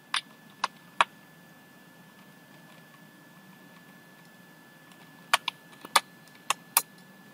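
Code is typed on a computer keyboard in a quiet room: a few isolated key clicks at the start, a long pause, then a short cluster of sharper taps near the end.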